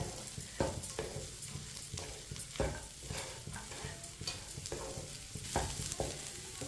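Semolina halwa cooking in sugar syrup, stirred steadily with a spoon, giving repeated scraping strokes and soft bubbling sizzle, close but fairly quiet, without speech.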